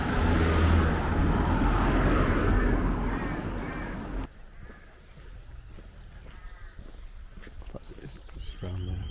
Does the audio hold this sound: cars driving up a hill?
yes